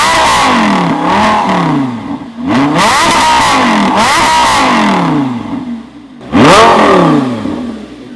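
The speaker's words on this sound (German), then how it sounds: "jetzt machen wir noch einen kurzen Soundcheck vom Lamborghini" A Lamborghini engine revs hard and loud up close in repeated bursts, rising and falling in pitch several times, with one sharp final rev after a short dip.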